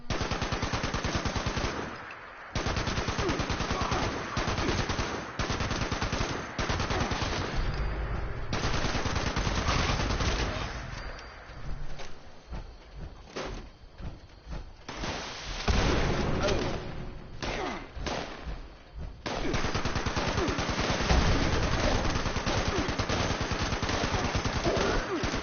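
Turret gunfire in Fallout 76, loud rapid automatic bursts that run almost without pause, drop out briefly in the middle with scattered shots, then resume at full force.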